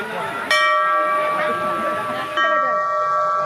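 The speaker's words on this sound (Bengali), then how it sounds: "ঘন্টাটা বাজা" A bell at an ashram temple is struck loudly and close, twice, each strike leaving a long ringing tone. Quiet voices can be heard in the background.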